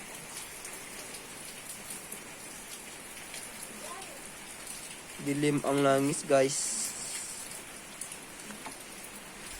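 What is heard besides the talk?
rain falling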